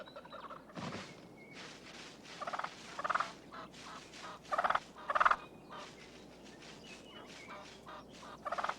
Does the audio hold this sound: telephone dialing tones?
no